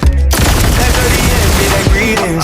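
A rapid burst of gunfire sound effects, a dense, loud rattle of automatic shots that begins after a short sharp onset and continues for a couple of seconds.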